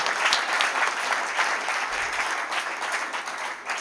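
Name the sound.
audience applause at a Hindi poetry gathering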